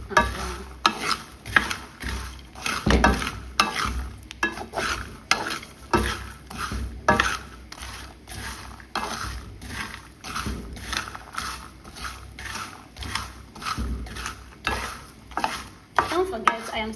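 Groundnuts frying in a pan while being stirred, a continuous soft sizzle broken by repeated scraping strokes of the spoon against the pan, close and moderately quiet with no voices.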